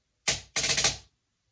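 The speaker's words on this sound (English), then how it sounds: "5 stroke rolls can use either this hand pattern" On a snare drum, a five stroke roll sounds as a single accented stroke followed by a short, tight burst of rapid even strokes. The playing is close and crisp, with no talk over it.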